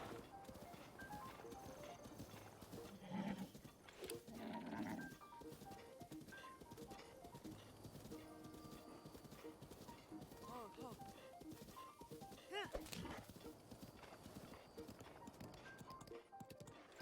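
Horse hooves clip-clop in Zelda: Breath of the Wild, a steady galloping patter running under busy game sounds and occasional louder bursts throughout.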